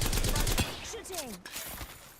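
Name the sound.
gunfire in a video game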